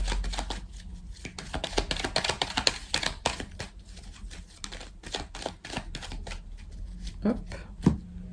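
Tarot cards being shuffled for a reading, a quick run of crisp riffling slaps and flutters, close and steady, with a brief voice toward the end.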